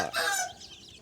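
A chicken gives a short, close cluck, one quick call that fades within a second against a quiet background.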